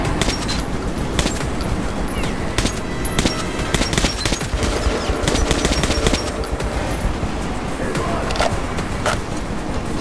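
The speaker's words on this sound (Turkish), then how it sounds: "Silah çok tepiyor. Silahın tepmesini azaltamıyoruz herhalde." Rapid machine-gun bursts crackle in the video game Metro 2033 Redux, dense repeated shots with short gaps running loud and continuous for ten seconds.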